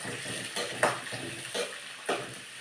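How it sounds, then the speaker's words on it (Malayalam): Ginger, garlic, onion and green chilli sautéing in a pan give a steady close sizzle, with a few louder stirring scrapes and bursts spaced roughly every half second, no voices. "ഇഞ്ചിയും വെളുത്തുള്ളിയും സവോളയും പച്ചമുളകും കൂടെ ആദ്യം ഒന്ന് വഴങ്ങാം"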